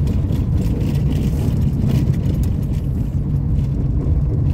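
A Ford Del Rey driving along a dirt road, its engine droning steadily with continuous road and tire rumble from inside the car, no talking.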